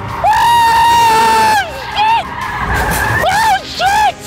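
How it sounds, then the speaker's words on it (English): A small car skids off a racetrack into the gravel at around 80 mph, tyres squealing loudly in long wavering screeches with short repeated bursts, while an excited crowd-like voice and shouting sound over it. "I've skidded into the gravel and the Twig isn't far behind"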